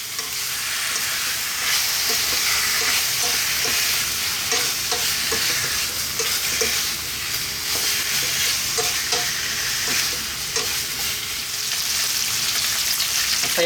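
Pork belly frying in a pan for adobo, stirred until it renders its own oil: a loud, steady sizzle fills the whole stretch, with faint rhythmic scrapes and clicks of a utensil stirring through it and no talking.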